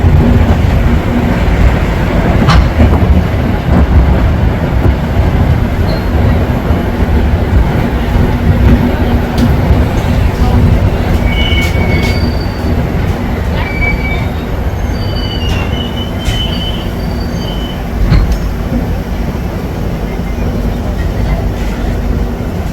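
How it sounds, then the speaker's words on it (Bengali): The Kamrup Express, Dibrugarh to Howrah, rolls along after leaving Dibrugarh station: a loud steady rumble of wheels and carriages heard from inside, with brief high wheel squeals and occasional clatter, sustained throughout. "ডিব্রুগড় হাওড়া কামরূপ এক্সপ্রেস। তার নির্দিষ্ট সময় 8টা 15 ডিব্রুগড় স্টেশন ছাড়ল।"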